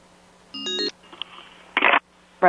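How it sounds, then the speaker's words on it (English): Telephone being dialed at a hearing room desk, a steady dial-tone hum under a burst of keypad tones followed by short beeps and two brief ringing buzzes, close and clear with no talking. "can somebody get Louise on the phone, please"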